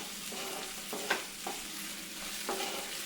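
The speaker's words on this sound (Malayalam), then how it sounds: "ഇടയ്ക്കൊന്ന് ഇളക്കി കൊടുക്കണം കേട്ടോ" Okra (vendakka) frying in a pan for a Sadya side dish while being stirred, with soft scraping strokes of the spoon heard a few times over a quiet, steady sizzle, close and alone.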